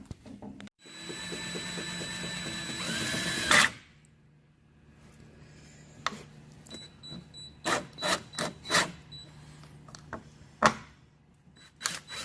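A power drill whirs loudly for a few seconds while boring through a plastic vehicle dash during a heater installation, then cuts off, followed by scattered scraping, clicking and handling noises.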